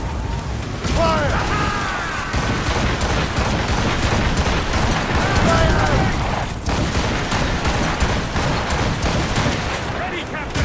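Ship cannon volley in Assassin's Creed Rogue, dense rapid booming broadside fire rolling on continuously and loud, with voices shouting over it.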